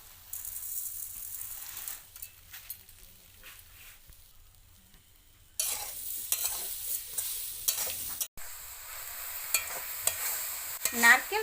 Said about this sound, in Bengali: নারকেল হালকা ভাজা ভাজা করে নিয়েছি।